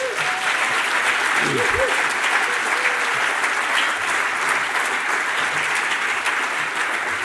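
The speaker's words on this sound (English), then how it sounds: "Let's give her another round of applause" Sustained, dense applause from a lecture audience honoring a speaker at the close of an evening talk on Greeks, Jews and Hanukkah, steady and loud throughout with a few faint voices mixed in.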